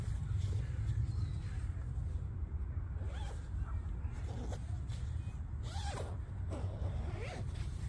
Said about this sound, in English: But once you unzip it all,